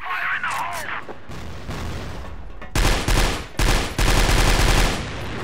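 Rapid bursts of gunfire from the online shooter CrossFire in an escape-mode match on a cargo ship map, loud clustered volleys filling the second half after a quieter stretch with brief high tones.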